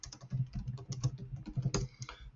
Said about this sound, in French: je tape n'importe quel texte